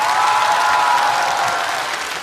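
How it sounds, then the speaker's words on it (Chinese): A live studio audience at a stand-up comedy show bursts into loud, sustained applause that stays dense and even, with faint crowd noise mixed in. "再次把掌声献给所有的观众以及漫才兄弟。"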